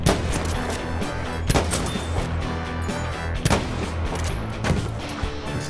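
Rapid sniper and weapon gunfire in a video game, dense repeated sharp cracks over a constant loud game mix with no clear talking.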